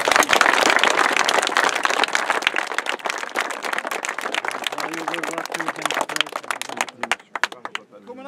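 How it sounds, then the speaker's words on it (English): Applause from a crowd at an under-14 North Final presentation, Burgess versus Newport in Ballinahinch: dense, sustained clapping at full strength for about seven seconds, thinning to scattered claps at the end. "So I'd like to give a big round of applause to Newport for such a great game."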